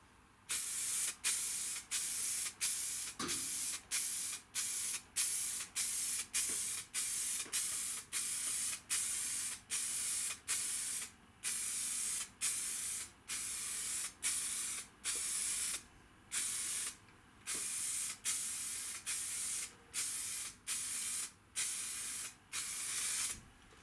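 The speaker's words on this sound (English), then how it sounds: "now we're ready for our first fluorescent coat, and let's put that on" Full Dip fluorescent spray paint hisses from an aerosol can in a long series of steady bursts, each a second or so, separated by brief pauses, loud and close with no voices.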